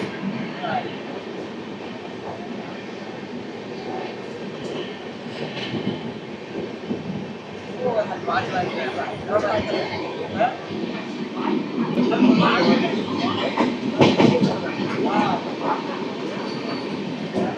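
The 12862 Superfast Express from Mahbubnagar to Visakhapatnam runs at about 130 km/h, giving a steady rolling rumble with rail clatter and occasional squeals that build toward the end, while passengers' voices murmur underneath.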